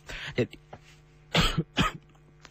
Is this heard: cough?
yes